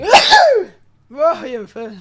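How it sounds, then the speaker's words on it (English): A single loud, close sneeze bursts out at the start, followed after a short pause by a person talking briefly. "That was a sneeze."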